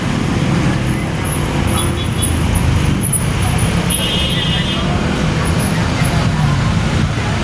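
Steady, broad road traffic rumble from passing cars and buses fills the scene continuously, with faint background hiss and no clear individual vehicle passes.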